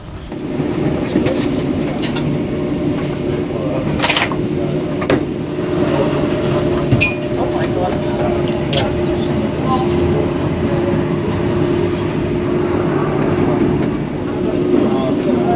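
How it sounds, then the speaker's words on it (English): A monorail train in Düsseldorf rumbles steadily along with a constant low roar and occasional clicks and knocks, while people talk faintly in the background. "to get there you have to catch a monorail"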